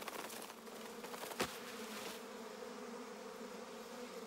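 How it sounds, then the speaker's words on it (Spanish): A cartoon insect buzzes steadily throughout, a continuous droning hum with a brief sharp accent near the start, heard alone without talk. "Oh, ¿qué ruido es ese? ¿Qué ruido? ¡Un zumbido!"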